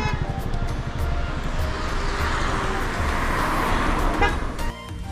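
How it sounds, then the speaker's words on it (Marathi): Dense evening traffic on a congested road in Shimla, India, with steady engine rumble and repeated car horns honking near and far throughout, a burst of louder honks close to the end. "खूप जास्त ट्रॅफिक आहे शिमल्याला."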